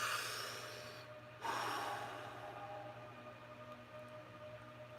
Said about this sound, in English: Deep inhale, exhale